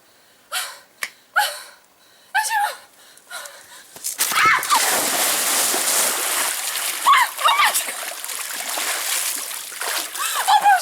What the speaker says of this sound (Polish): ja będę skakać tak teraz do basenu